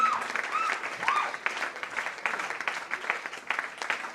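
Audience applause at a stage ceremony honouring Anjum Khatoon, steady moderate clapping from a crowd through the whole stretch, with faint voices mixed in.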